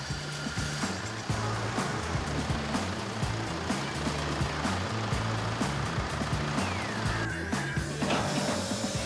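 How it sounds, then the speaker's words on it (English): A Mercedes W204 engine idles steadily while its power steering pump runs, a continuous low drone with a faint whine, loud and close, with no talk. "Let the engine run for about a minute without moving the steering wheel."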